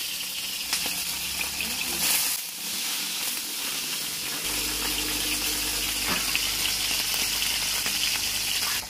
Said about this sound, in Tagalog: mainit ang ating mantika. Pwede na natin ilagay at isda.